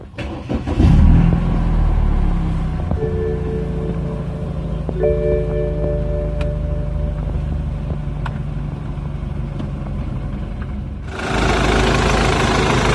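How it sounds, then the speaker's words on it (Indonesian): A BMW F30 320i with an N20 engine cranks and catches with a burst around the one-second mark, then settles into a steady low idle, with a brief rise near the end. "Caranya injak pedal rem, nyalain mobilnya."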